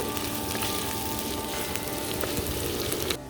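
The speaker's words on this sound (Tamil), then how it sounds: "சின்ன வெங்காயத்தை நல்லா சின்னதாக கட் பண்ணி போட்டிருக்கேன். நல்லா வதங்க விட்டுட்டு" Finely chopped small onions (shallots) sautéing in a pan, giving a steady, dense sizzle and crackle throughout, close and even, with no talk.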